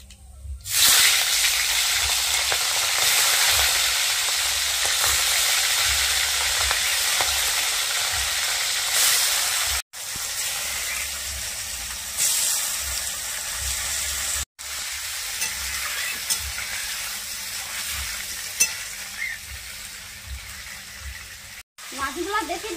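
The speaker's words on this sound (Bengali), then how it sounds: "তেলে কালো জিরা দিয়ে দিচ্ছি। কালো জিরা, এবারে মাছগুলো দিয়ে দিচ্ছি।" Pomfret fish hiss and sizzle loudly in hot oil seasoned with black cumin, a steady close-up frying roar that briefly cuts out a few times and then resumes.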